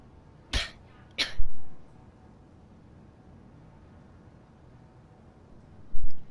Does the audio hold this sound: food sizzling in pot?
no